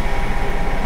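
An ICE2 high-speed train in Train Simulator 2013 runs along an LZB-equipped line between Hamburg and Hannover, giving a steady, loud rolling rumble with constant broadband hiss and no talk.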